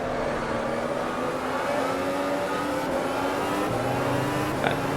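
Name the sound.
F1 car engine in AMS video game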